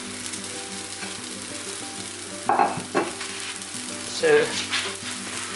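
Goan sausage chilli fry frying in a pan, a steady broadband sizzle with a couple of louder stirring scrapes and clatters, close by and mostly alone apart from a brief spoken word.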